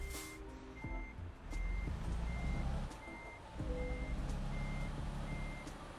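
Reversing beeps from a truck backing up in Euro Truck Simulator 2, regular evenly spaced high beeps over a low engine rumble, with no talk.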